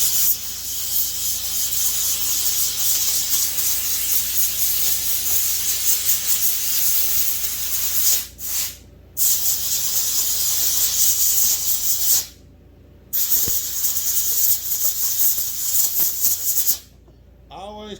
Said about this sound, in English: Y'all are standing in front of the air hose.